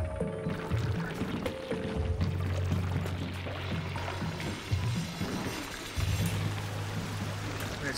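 Water pours and splashes steadily over colonists in the space colony sim Oxygen Not Included, a continuous gushing flow with low game tones underneath.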